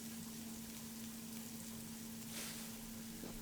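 Cucumber stir-fries in a heavy-based pan with a soft, steady sizzle under a constant low hum, faint and unbroken throughout.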